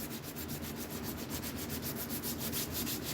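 Sanding a knife that had been treated as trash, a close, steady abrasive rubbing with regular back-and-forth strokes that goes on without a break.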